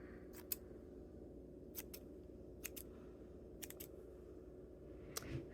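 Scissors snip several times, trimming the ends of a handmade Christmas gnome. The cuts come in short, crisp pairs spread over a few seconds, close and quiet over a low steady room hum.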